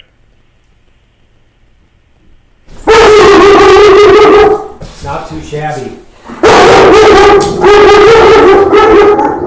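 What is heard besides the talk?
dog barking and whimpering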